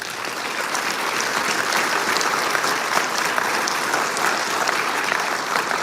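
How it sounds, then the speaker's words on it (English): A football banquet audience gives a sustained round of applause, dense and even clapping from a large crowd filling the room at a constant loud level throughout. "Can we give this group a round of applause?"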